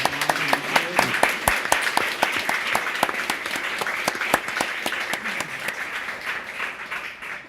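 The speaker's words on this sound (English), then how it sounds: "Can we give a warm round of applause for Emanuel?" Audience applause at a book talk, a steady patter of many hands clapping close by for several seconds, fading slightly toward the end with no talk over it.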